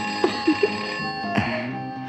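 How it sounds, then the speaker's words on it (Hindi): A telephone rings in a Hindi action film scene, a sustained electronic ringing tone heard fairly near, with a few short thuds and one sharper hit partway through. "ओहो, फोन तो उठाओ।"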